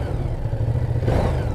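A 2019 Ducati Multistrada 950S with a Desmodromic twin idles in a lumpy, uneven rhythm, then blips its throttle briefly into a louder rev near the end.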